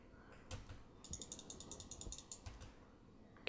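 A wrench ratchets in the game Stationeers, a quick run of about a dozen evenly spaced mechanical clicks lasting just over a second, with a few softer clunks before and after and no talking.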